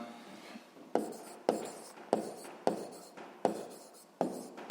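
A pen scratches across paper close by, writing out a sixth-grade math solution by hand. Regular sharp strokes land about every half second, each followed by a short scratchy trail.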